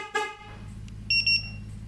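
A 1995 Ford Mustang GT's aftermarket two-way alarm sounds its horn: one short honk, then a quick run of three high electronic chirps, fairly loud over a low engine-like hum.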